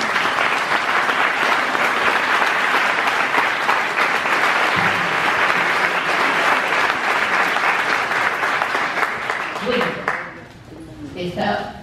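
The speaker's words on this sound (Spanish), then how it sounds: "Un aplauso para Dante Córdoba." At a book presentation for Alicia Maguiña's memoir, the audience gives Dante Córdoba a long, vigorous round of applause that fades near the end as a voice starts to speak.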